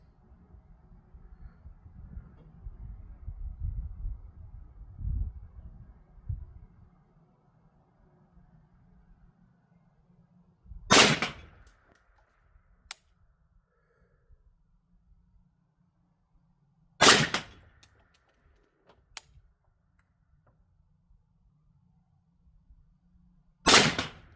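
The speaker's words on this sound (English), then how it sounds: "Okay, maximum effort, 5 shots." An LMT MARS-H piston-driven .308 rifle fires three loud, sharp shots at a shooting range, spaced several seconds apart, after a stretch of low rumbling background noise.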